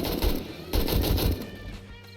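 Rapid automatic gunfire from the survival video game 7 Days To Die, two quick bursts of rattling shots close together, then a fading tail into quieter game ambience.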